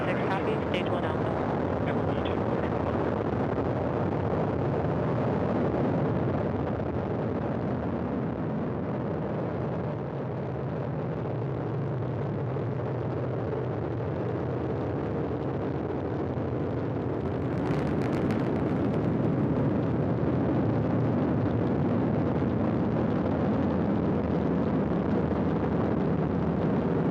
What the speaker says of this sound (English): and liftoff. Go Falcon, go Dragon, and Godspeed Crew 12.